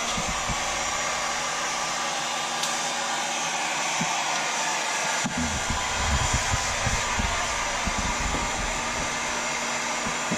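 A hot air blower on low heat blows steadily at close range onto a stiff part, making a constant loud whooshing roar with some handling knocks partway through.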